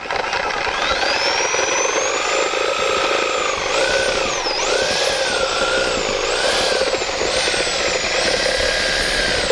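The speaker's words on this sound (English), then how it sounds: "we're going to use a reciprocating saw, or a sawzall some people call them, to cut the rest of it out" A reciprocating saw whines steadily and loudly, its pitch dipping and rising as the blade bites through material while cutting a dryer vent opening in a brick wall, running continuously without talk.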